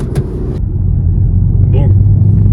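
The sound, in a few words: Audi S1 car accelerating hard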